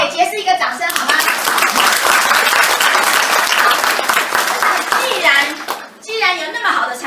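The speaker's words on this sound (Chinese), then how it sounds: "给杰斯一个掌声好吗？" An audience at a product presentation in a Taipei hotel bursts into loud, sustained applause, with a speaker's voice heard just before and after the clapping.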